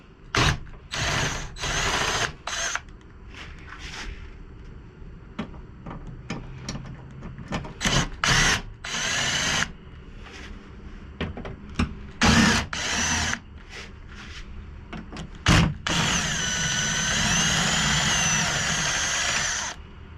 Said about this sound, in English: so that's why I'm using the power tool